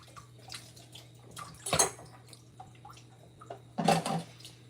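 Something rinsed off under a running tap, with two short bursts of splashing water over a steady low hum, close by and with no talk.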